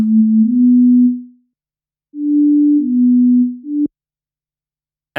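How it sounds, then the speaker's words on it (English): Sibelius synthesizer playback of a vocal line: a pure, sine-like synthetic tone playing a few sustained notes with small pitch steps, separated by silent gaps, clean and close. "the voice straight from Sibelius is this part here, which is currently just this"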